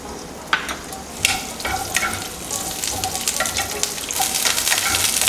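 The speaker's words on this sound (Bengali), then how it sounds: "ফুলকপিটা একটু লাল লাল করে ভেজে নেব" Cauliflower frying in ghee and white oil in a kadai over high flame, a loud continuous sizzle and crackle with occasional sharp spatters, growing denser toward the end.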